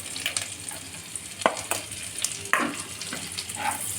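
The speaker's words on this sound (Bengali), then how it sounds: "এই আদা আর রসুনের কুচিটাকে আমি ভালো করে একটু ভেজে নেব।" Chopped ginger and garlic frying in a pan over medium flame, a steady soft sizzle broken by sharp scraping and clinking strokes as a spatula stirs, close and without talk.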